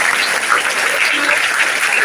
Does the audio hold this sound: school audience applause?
yes